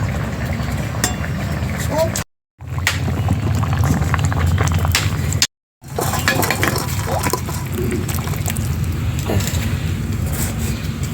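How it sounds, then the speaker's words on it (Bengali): Thin Bengali folui fish curry broth with sola kochu and green chillies bubbles steadily in a pot, a continuous simmering hiss broken by two brief silent cuts, with a faint voice in the background. "মাছ দেওয়ার পরে ঝোলও ফুটে গেছে"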